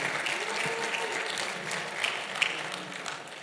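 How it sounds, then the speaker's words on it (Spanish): A church congregation claps to welcome first-time visitors, a soft, somewhat distant spread of applause with a few sharper individual claps standing out before it fades. "¿Por qué no le damos un fuerte aplauso?"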